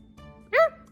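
A talking parrot gives a single short, yelping bark in imitation of a dog, with faint room noise around it.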